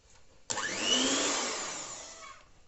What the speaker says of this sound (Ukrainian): Тепер вливаємо сюди наш кефір. І тепер гарненько збиваємо.